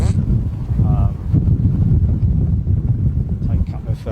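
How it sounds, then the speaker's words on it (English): Wind buffets an outdoor microphone at a planespotting spot at London Heathrow Airport, making a steady, heavy low rumble with gusty swells that fills the whole clip. "it's not a lot you can do about wind"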